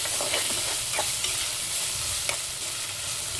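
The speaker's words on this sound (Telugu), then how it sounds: "దాంట్లో 1 స్పూన్ అల్లం వెల్లుల్లి పేస్ట్ వేసుకుంటున్నాను. ఇది పచ్చి వాసన పోయే వరకు ఫ్రై చేసుకోవాలి." Ginger garlic paste fries in a hot pan, a quiet, even sizzle with occasional light stirring taps, heard close up and with no talking.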